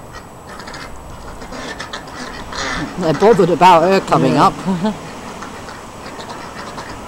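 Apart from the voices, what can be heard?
Muscovy and Indian Runner ducks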